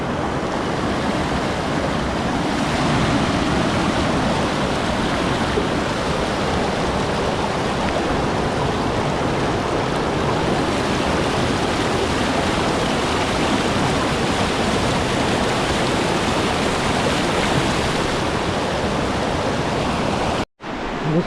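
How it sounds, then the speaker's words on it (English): Steady, loud rush of flowing water at Sahasradhara waterfall in Dehradun, a dense broadband roar that holds constant throughout and cuts out briefly near the end. "This is another side of the flowing water."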